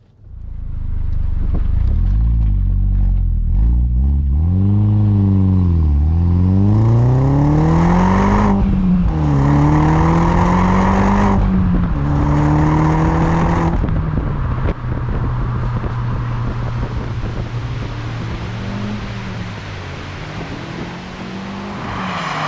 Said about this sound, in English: Let's just do a pull through the gears